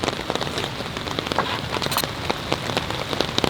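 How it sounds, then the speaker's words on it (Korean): Heavy downpour drums on a camping tent with a steady, dense patter of close raindrops, loud and continuous without a break. "빗소리 들으면서 먹으니까 좋네."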